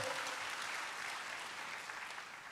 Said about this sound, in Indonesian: boleh berikan tepuk tangan bagi Tuhan